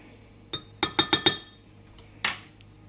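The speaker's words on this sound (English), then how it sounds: "Stir this." A spoon clinks against a glass while stirring a yeast mixture for sandwich bread: one tap, then a quick run of four bright clinks, and a last louder scrape-clink after a pause, close and clear over a quiet room.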